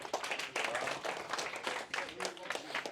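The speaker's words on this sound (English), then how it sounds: "first round of applause for your shipmates." A school class giving a brief round of applause for shipmates, with quick uneven hand claps from a small group of students in a room, soft and close and lasting a few seconds.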